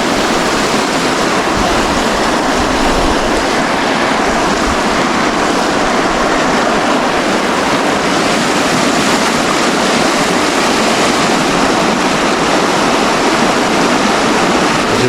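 Swirling river water in the Zagyva churns back on itself, a loud, continuous rushing roar that holds steady for the whole stretch, close by with no voices over it.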